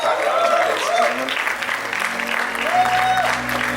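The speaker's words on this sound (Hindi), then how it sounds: "जोरदार तालियां।" Loud audience applause fills the room, steady clapping throughout with a faint tone sweeping over it.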